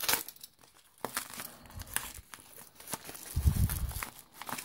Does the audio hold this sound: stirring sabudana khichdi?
no